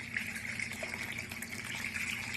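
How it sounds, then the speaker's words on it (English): Brine poured from a container over fish laid out for smoking, a steady close liquid pour and splash that runs unbroken throughout with no talking. "Pour that brine"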